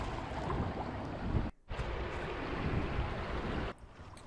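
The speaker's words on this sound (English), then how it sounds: "Here's Adam going over the tiny little waterfall at the bottom end of the loch." Kayak tipping over a tiny waterfall at the bottom end of a lock on the River Gipping near Needham, a steady rush of falling water and wind buffeting close by, with a brief dropout midway.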